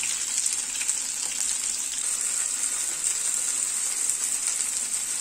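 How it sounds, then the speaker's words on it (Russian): Chicken fillet cutlets sizzle in a frying pan with a steady, crackling hiss that holds evenly from start to finish, close up and without talk. "Котлетки шипят"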